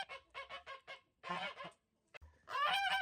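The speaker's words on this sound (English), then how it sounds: "Now that the geese are out of the ducky bunkie" Several geese honk loudly and close by in quick bursts, a rapid run of calls followed by a pause and then a harsher, sustained cluster of honking.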